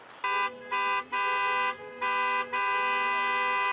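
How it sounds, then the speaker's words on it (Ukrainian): Car horns honk at a street protest by foreign-registered car owners and activists over customs clearance, heading toward a government building: several loud sustained blasts in an irregular on-off rhythm, close by, with faint crowd noise beneath. "Частина протестувальників рушила до урядової будівлі, привертають увагу клаксонами."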